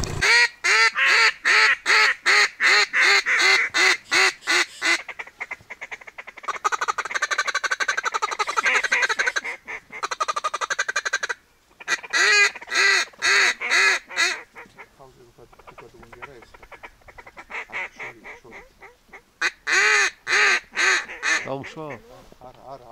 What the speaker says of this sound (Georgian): უკვე იხვები მოგროვდა